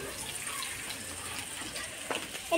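Water pours steadily into a pot while mutton curry is cooked in a home kitchen, a soft continuous splashing stream heard at moderate distance, with a couple of small clinks near the end.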